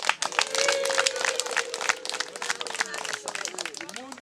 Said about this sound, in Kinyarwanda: mumfashe mwakire perezida n'amashyi menshi